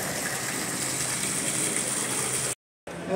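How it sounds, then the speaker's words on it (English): Continuous broadband rush of an indoor waterfall in a shopping mall garden, steady and fairly close, with no talk, cut by a brief silent gap near the end. "Waterfall."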